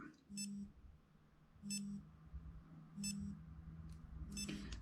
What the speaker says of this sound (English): you can see how often that's going to beep